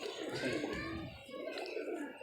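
Soft cooing of pigeons at a pigeon club, faint and steady in the background with low chatter of people nearby.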